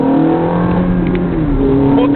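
Ferrari F430 Spyder engine rumbling loudly from inside the car on a road in the Philippines, pitch rising and falling through a downshift, with faint voices in the cabin.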